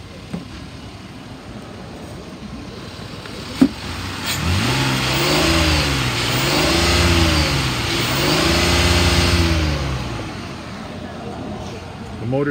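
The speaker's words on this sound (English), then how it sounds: "I'm gonna rev it up so you can hear it" Engine of a 2006 Ford Explorer XLT revved several times in a row, each rise and fall sweeping up and back down over a steady idle, fairly close, with a voice speaking over it.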